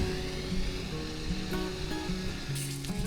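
Water pours into a wash plant used for cleaning gold-bearing material, a steady broadband rush with a faint tonal hum underneath, no voices.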